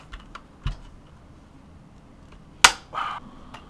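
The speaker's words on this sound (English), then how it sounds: "you just keep clicking these down on this side until it sits" Plastic casing parts of a Wacom Bamboo drawing tablet being pressed and snapped into place, a few light ticks followed by one sharp, loud click and a brief scraping rattle, close and otherwise quiet.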